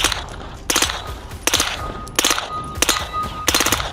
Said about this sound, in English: I have a machine gun now too